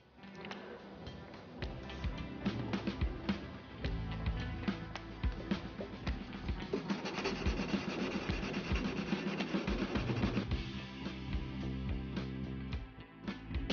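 Abrasive paper at 800 grit is rubbed by hand in long strokes along a knife blade, close rhythmic scraping that repeats steadily for over ten seconds and eases off near the end.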